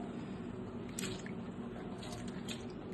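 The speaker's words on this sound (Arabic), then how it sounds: "راح نغسل العدس، شوفوا شلون يطلع." Lentils being rinsed in water by hand, giving soft, close squishing and swishing with a few small wet clicks and splashes, fairly quiet and continuous.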